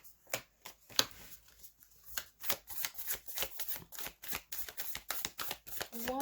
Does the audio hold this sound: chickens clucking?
no